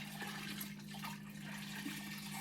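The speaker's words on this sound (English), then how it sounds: "squeeze out all the excess soda ash water" Excess soda ash water squeezed out of a French terry cloth diaper flat for ice dyeing, a faint wet dripping and splashing trickle against a steady low background hum, with no talking.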